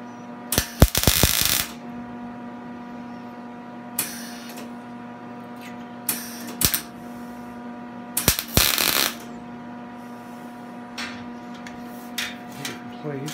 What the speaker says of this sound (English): I got to just tack weld it in place first.